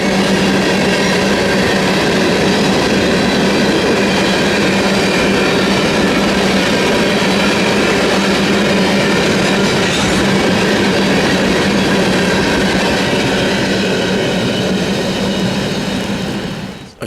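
A pair of BNSF locomotives hauls freight train 889 with a cut of empty tank cars, a steady loud rumble of engines and rolling wheels with faint clatter that holds for the whole stretch and fades only at the very end.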